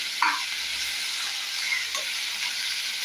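Potato curry is stirred in a pressure cooker, with a steady close sizzle and frying hiss and a few light scrapes and taps of the spoon against the pot.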